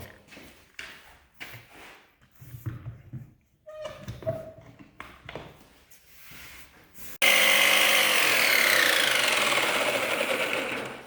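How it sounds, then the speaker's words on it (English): Jigsaw cutting roughly through a wooden face frame rail clamped down in a workshop, a loud harsh buzzing rasp that starts abruptly after a stretch of quieter handling noises and clunks. "I'm going to make a rough cut, leaving the line with the jigsaw"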